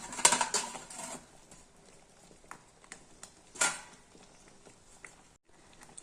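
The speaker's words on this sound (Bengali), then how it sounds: "এই যে এভাবে নাড়তে হবে যাতে না লেগে যায় তলায়" Milk and batasha sugar being stirred in a pot for kheer: scattered light scrapes and clinks of a spoon against the metal, with a louder cluster at the start and another about midway, fairly close and quiet.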